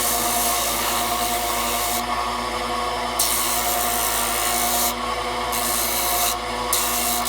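Steady abrasive hiss of wood being sanded on a lathe, with a continuous motor hum, the grinding texture shifting slightly in pressure throughout, close and loud with no talking.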